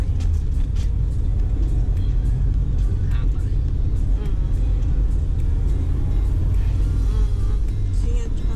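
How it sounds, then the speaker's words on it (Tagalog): Heavy road traffic in Manila, Philippines: a dense, continuous low rumble of cars and buses with engines idling and moving, heard from inside a vehicle, with faint chatter beneath. "Philippines traffic"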